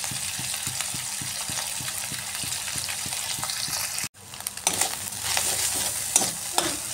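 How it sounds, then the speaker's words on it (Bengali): Rohu fish pieces fry in oil in a pan with a steady loud sizzle, regular stirring scrapes, a brief break, then stronger crackling and spattering. "মাছটাকে একটু ফ্রাই করে নিতে হবে।"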